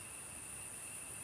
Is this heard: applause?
no